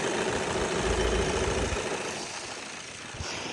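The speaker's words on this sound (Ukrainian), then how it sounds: "Дуже гарна робота двигуна, не кидає ним" Volkswagen Passat B7 engine idling smoothly and steadily with no roughness, a continuous low rumble heard up close from the engine bay, with faint mechanical clatter and no talk.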